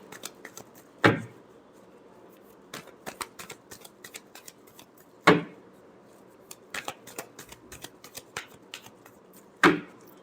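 Tarot cards are shuffled by hand, with soft, close riffling and rustling broken by three sharper snaps as the deck is squared or cut, spaced a few seconds apart.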